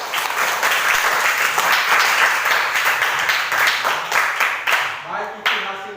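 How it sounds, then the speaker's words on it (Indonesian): A school class applauds at the end of a lesson on air-layering plants, a lively burst of many hands clapping close by that thins out toward the end as the clapping tapers off. "untuk kita semua tepuk tangan"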